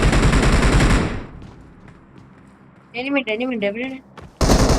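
Machine gun fire in the BGMI video game, dense rapid bursts that are loud and close at the start and again at the end, with a voice speaking in the quiet gap between them.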